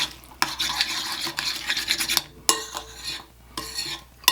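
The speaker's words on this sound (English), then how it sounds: "And we are just going to mix this all together" Salad dressing of salt and lemon juice being stirred together in a bowl, with close clinking and scraping of a utensil in repeated bursts and short pauses, no talking.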